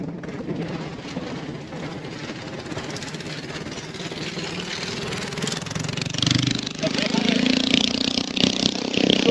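A motorboat engine, driven by a young boy, drones through a floating village in Cambodia. The drone sits under ongoing talk and grows louder and nearer toward the end.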